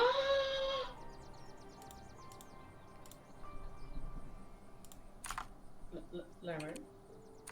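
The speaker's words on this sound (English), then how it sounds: "I'm typing stuff. He's typing." Light clicks of typing on a computer keyboard during a tabletop game session, faint sparse keystrokes in a quiet room, with a brief high voice at the start and scattered soft sounds later.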